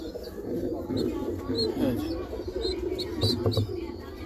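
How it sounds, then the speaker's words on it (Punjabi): Red pied pigeons cooing nearby in soft, repeated low coos, with a few chirps and faint background voices mixed in. "ਇਹ ਲਾਲ ਪਰੀ ਕਬੂਤਰੀ, ਡੱਬ ਵਾਲੀ ਲਾਲ ਪਰੀ ਕਬੂਤਰੀ ਹੈ"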